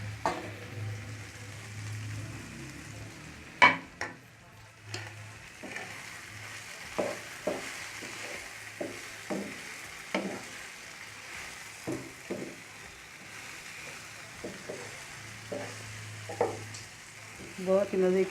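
Okra is stirred with spices on a tawa over a low flame. A soft sizzle runs throughout, broken by scraping and tapping strokes of the spatula at an irregular pace, with no talking.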